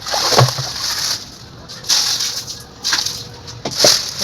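Repeated splashes of water pouring and spattering onto garden plants, including moringa, nearby, coming in waves, with faint talk in the background.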